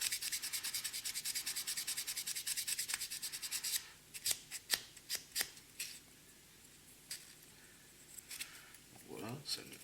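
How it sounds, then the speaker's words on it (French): A Tamiya sanding sponge rubs plastic parts of a 1/12 Aoshima 1978 Honda Z50JZ-1 Monkey kit, first as a fast even scrubbing, then as scattered separate scrapes, close and fairly quiet, with a voice speaking at times. "Vous voyez les petites éponges Tamiya comme ça, c'est impeccable, ça se plie dans tous les sens. Vous n'êtes vraiment pas embêté pour poncer."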